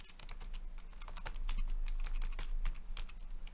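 Rapid, steady typing of Arduino code for an ultrasonic sensor on a computer keyboard, close and continuous clicking over a low hum, with no one speaking.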